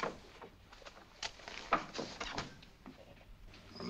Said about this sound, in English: Oh, the door sticks.